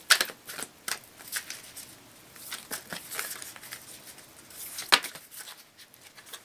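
A deck of playing cards is shuffled in quick riffling bursts, with crisp flutters and snaps close by and brief pauses between them; no talking.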